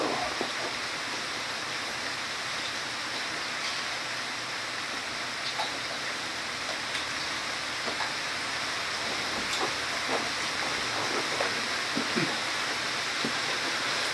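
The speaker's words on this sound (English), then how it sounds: "It's raining hard." Heavy rain pours steadily in a dense, constant hiss, with occasional louder drops and splashes standing out close by.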